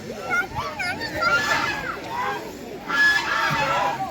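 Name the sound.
duck quacking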